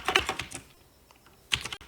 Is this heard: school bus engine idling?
no